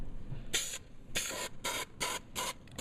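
An aerosol can of spray adhesive hisses in five short, sharp bursts into a trunk bag, each spurt close and crisp with brief pauses between them.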